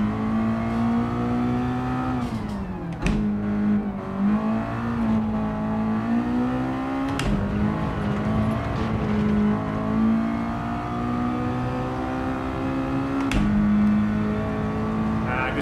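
A 200 bhp naturally aspirated car engine drones steadily while driving in Gran Turismo 7, its pitch rising and dipping with gear changes and throttle, loud and continuous with a few sharp shift blips.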